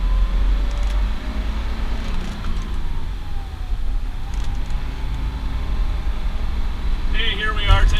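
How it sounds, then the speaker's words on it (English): A 1958 Mercedes-Benz 220S driving along fills the cabin with a steady, rushing engine and road noise, with a voice talking over it. "Hey, here we are taking a little drive in the 220S."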